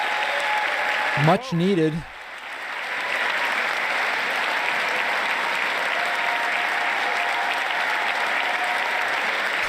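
An audience at a State of the Union address breaks into loud, sustained applause and cheering, following a brief spoken phrase and then holding at a steady, full roar through the rest of the clip.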